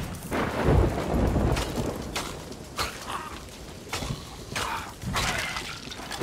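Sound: thunder and rainstorm in the video game Sea of Thieves

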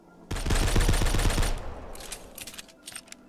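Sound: gunfire from a video game

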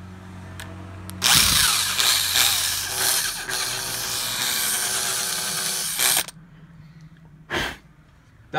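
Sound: power drill drilling

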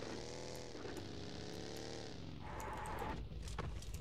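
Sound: car engine in the video game PUBG Mobile

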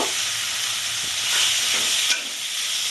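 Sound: spice masala frying in a pan for Bengali crab curry

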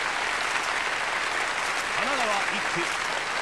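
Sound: crowd applause in video game Yakuza: Like a Dragon

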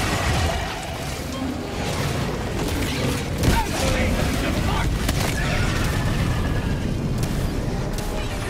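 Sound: grenade explosion in Helldivers 2 video game

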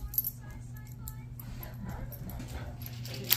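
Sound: dog whimpering for a treat

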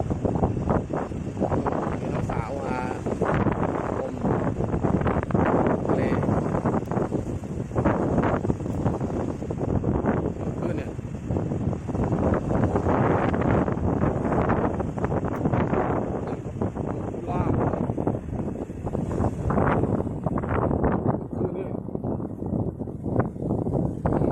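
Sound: strong wind at a beach

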